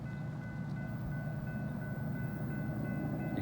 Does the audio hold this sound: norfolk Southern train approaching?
yes